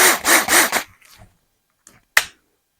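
A 1/4 inch drill bit bites into material while the builder finishes off a fish smoker: three quick rasping bursts in a row, then near-silence broken by a few faint knocks and one sharp click.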